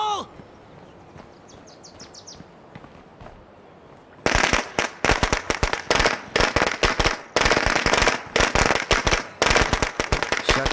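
A grenade blast in the zombie survival game State of Decay 2 opens a long run of loud, rapid crackling bursts, like a string of firecrackers going off close by after a quiet stretch.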